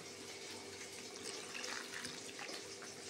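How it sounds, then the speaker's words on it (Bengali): Low-heat milk pours steadily into buttery cake batter in a bowl, a soft, continuous liquid stream that stays even and quiet throughout. "এই যে পুরো দুধটা আমি ঢেলে দিলাম"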